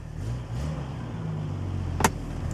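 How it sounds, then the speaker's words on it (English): A 1972 Triumph TR6 engine runs smoothly with the choke off, a close, steady idle that rises slightly in pitch, with a short sharp knock near the end. "Car's running great. Runs like a sewing machine."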